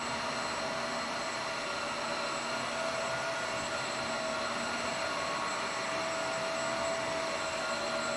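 A wet dry vacuum and mop, either a Roborock F25 GT or a Tineco, running on a home floor while picking up debris, a constant loud motor whine and suction roar with no pauses and no talking.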